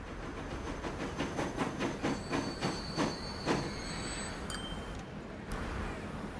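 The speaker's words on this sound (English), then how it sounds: "We've now got the Flying Scotsman on down here." The Flying Scotsman steam train runs in the video game Transport Fever 2, giving a steady rolling rumble with rhythmic wheel clatter and brief high metallic squeals, heard up close with no talking.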